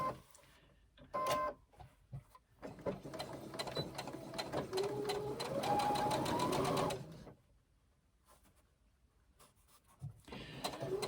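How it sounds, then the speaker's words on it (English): A domestic sewing machine stitches a 3/8 inch seam through fabric placed right sides together, running in a short, close mechanical burst with its whine rising in pitch before stopping, and softer handling noises around it. "place them right sides together and do a 3/8 inch seam"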